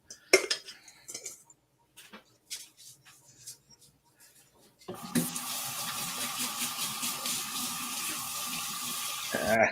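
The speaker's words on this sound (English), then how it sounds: "Sorry for the sounds of the water, everyone." Water runs steadily from a kitchen tap during home baking, starting midway after a stretch of quieter clinks of cutlery and dishes, and staying loud and continuous to the end.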